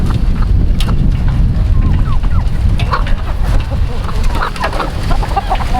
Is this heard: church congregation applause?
no